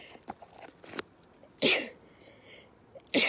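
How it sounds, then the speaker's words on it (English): Two sharp, loud sneezes about a second and a half apart, with faint breathy sounds and quiet movement before them. "I'm gonna sneeze."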